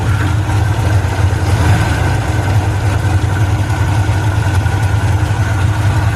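Hot rod car engine idling high with a suspect carburetor and possible vacuum leak or choke, a loud, steady low rumble running continuously and close without talk.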